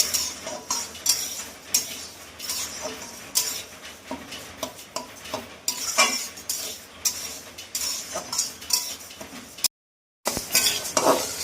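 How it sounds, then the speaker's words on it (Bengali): Raw rice grains dry-frying in a pan, being stirred with rhythmic scrapes and small clinks of a utensil, close and fairly even, with a brief gap of silence near the end and no talking. "এখানে চালগুলোকে ভালো করে ভেজে নিচ্ছে।"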